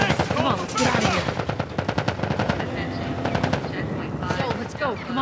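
Rapid automatic gunfire from a firefight in The Last of Us Part I, dense bursts of shots rattling continuously for several seconds, loud and close, with shouting voices mixed in.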